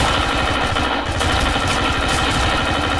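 Rapid automatic gunfire from Call of Duty: Infinite Warfare comes as a loud, continuous stream of close shots with dense, rattling bursts and no pauses, and no talking.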